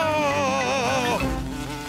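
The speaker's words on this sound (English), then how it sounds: "Daddy Pig has lost the wasp." A cartoon wasp buzzes steadily and close for about two seconds, a wavering insect drone that rises and falls in pitch with no talk over it.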